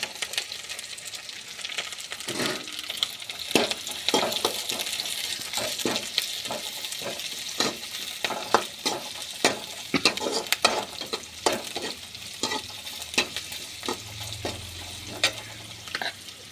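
Garlic and curry leaves fry in hot oil in a pan while making ivy gourd stir-fry, a steady close sizzle broken by repeated sharp scraping and stirring clicks throughout, with no voices.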